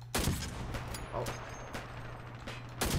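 Gunfire in the online shooter game Dirty Bomb: loud sharp shots at the start and end with quicker bursts of fire in between, over a constant low mechanical hum.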